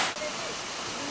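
A river rushes over natural karst rock hollows in Sumba, giving a steady, loud broadband wash of flowing water that holds evenly throughout with no voices.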